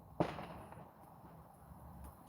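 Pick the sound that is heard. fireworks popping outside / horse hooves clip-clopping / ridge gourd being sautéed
fireworks popping outside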